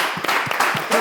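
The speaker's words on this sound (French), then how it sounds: "Je vous demande, s'il vous plaît, d'applaudir, d'ovationner et d'accueillir le professeur Camille." An audience claps to welcome a professor on stage, a dense burst of handclaps heard close and loud for about a second with no speech over it.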